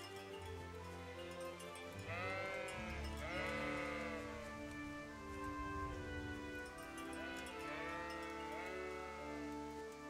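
Sheep bleat in the game Kingdom Come: Deliverance, several wavering calls around the middle and again near the end over a steady ambient music bed and outdoor backdrop.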